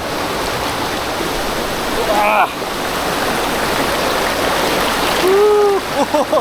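Strong, steady rush of water pouring down Than Thip waterfall in Prachinburi, loud and close, with brief calls or voices rising over the roar now and then.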